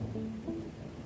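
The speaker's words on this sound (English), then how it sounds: "And the thunderclap was just so well-timed." Thunder inside a storm heard from within a castle, a low rolling boom with steady rain noise, fairly loud and continuous across the short moment, no voices.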